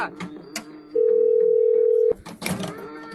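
A single steady telephone tone holds for about a second, with brief voices and clatter just before and after it.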